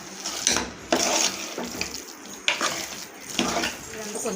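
Water is poured into a pan of masala cooking with cauliflower, giving bursts of splashing and sizzling hiss in several uneven pulses, close up, with faint kitchen clatter between them.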